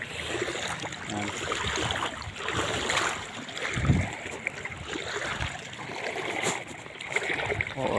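Bicycle being walked through knee-deep flood water in Calumpit, Bulacan, in the evening: continuous sloshing and splashing of moving water with a low rumble, steady and close throughout.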